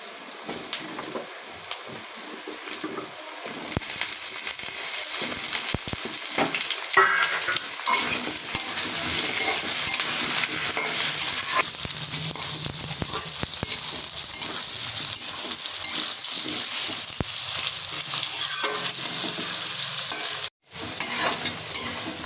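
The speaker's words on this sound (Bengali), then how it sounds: "এবার আমি কেটে রাখা আলুগুলো তেলের মধ্যে দিয়ে দিচ্ছি" Potatoes fry in hot oil with a steady, loud sizzle, accompanied by frequent stirring and scraping in the pan throughout.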